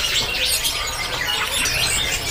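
Caged songbirds at a bird-selling kiosk in Jepara chirp and tweet busily, overlapping calls close by and fairly loud throughout, with no talking.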